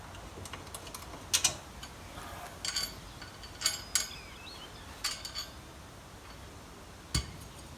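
Metal bolts being tried into captive nuts on a worn Chinese quad bike's back axle: scattered light clicks and taps, a few clustered bursts spaced over several seconds, faint and close against quiet background.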